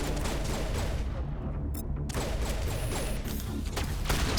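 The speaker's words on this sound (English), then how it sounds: "Shotgun!" Weapons fire in Mass Effect Legendary Edition, a dense, loud stretch of repeated blasts and booming reports amid combat noise, with heavy impacts near the end.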